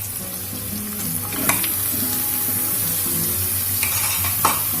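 Chicken frying in a pan with green chillies and onions, a constant close sizzle with occasional scraping stirs of a spoon against the pan.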